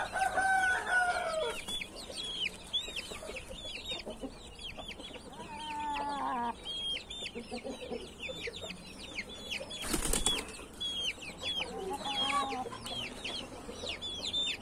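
Backyard chickens, including a bearded speckled hen and a naked-neck bird, cluck and squawk near and far while a rooster crows, with wings flapping and a sharp burst of commotion partway through.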